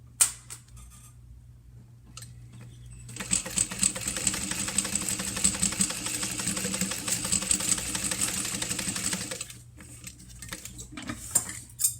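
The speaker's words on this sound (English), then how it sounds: "then we'll sew it on with a 3/8 of an inch seam allowance" A sewing machine runs a 3/8-inch seam in one steady, close whirring burst of about six seconds, with quiet handling clicks and knocks before and after.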